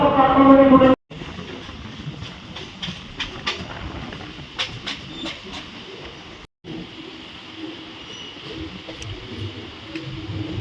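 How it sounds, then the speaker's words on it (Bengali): The Katwa–Howrah local train departs Jirat station, rumbling and clattering along the rails, the rolling noise steady and fairly close, with brief rhythmic clicks and a short break in the middle. "জিরাট থেকে ট্রেন ছাড়লো"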